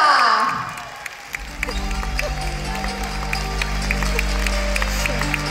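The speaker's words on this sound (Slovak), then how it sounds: "A ja poprosím naozaj obrovský potlesk pre dámu" An audience at a Mary Kay awards ceremony applauds the second-place winner with steady, sustained clapping from a large crowd, carried over a low droning rumble throughout.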